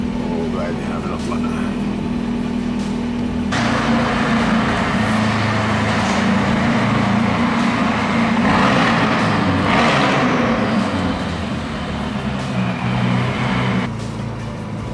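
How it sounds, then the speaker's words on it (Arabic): McLaren engine idling as it warms up: a steady low hum with a brief swell in the middle, while someone talks nearby throughout. "السيارة شوي تحتمي وبعدها بنطلع"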